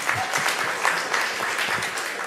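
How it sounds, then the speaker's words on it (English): A lecture audience gives a short burst of steady clapping, moderately loud and even from start to finish. "Applause again for also doing this."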